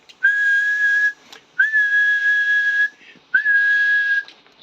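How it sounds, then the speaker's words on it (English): Three sustained steady whistles into an Icom IC-7300 transceiver microphone on sideband, each lasting about a second with short gaps, clear and close with no talk. "we'll have a little whistle into the microphone"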